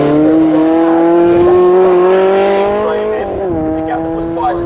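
Lotus Elise race cars at Snetterton circuit pass close by, one loud sustained engine note rising and then dropping sharply in pitch as each car goes past, with a fainter car following behind.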